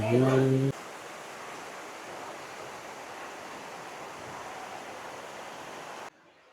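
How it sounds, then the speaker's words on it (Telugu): Hogenakkal waterfall gives a steady, broad roar of rushing water that holds evenly for several seconds, following a short burst of voice at the start. "ఓకే, ఇది ఫాల్స్, ఇక్కడ స్నానాలు చేయండి"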